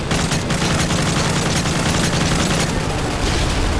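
Dense, sustained gunfire in the Modern Warfare 3 campaign, a rapid continuous fusillade of shots with booming impacts, loud and unbroken across the whole stretch, with no talk over it.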